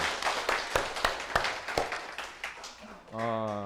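Lecture audience claps in sharp, fairly regular strikes close by, tapering off before a sustained tone cuts in; voices are heard amid the clapping.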